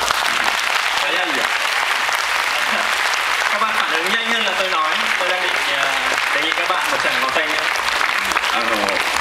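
Continuous audience applause for drummers at a live performance, loud and sustained throughout, with voices calling out over it.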